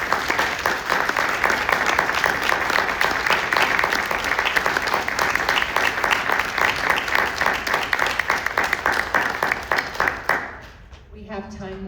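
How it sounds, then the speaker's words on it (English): Sustained audience applause at a commemorative gathering, steady and full for about ten seconds, then quickly tapering off into scattered claps and quiet. "Can we just give an applause for Carolyn?"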